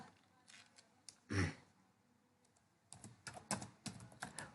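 Computer keyboard keys tapped in short irregular clusters, faint and close, with one louder thump early and a quicker run of clicks near the end.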